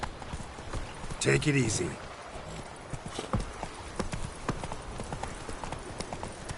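Hooves of Roach, the horse in The Witcher 3, clip-clop steadily at close range throughout, with a brief whinny-like burst early on and someone speaking calmly over them.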